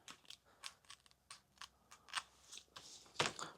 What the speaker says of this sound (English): Brand new scissors, and those motherfuckers do not want to cut that Velcro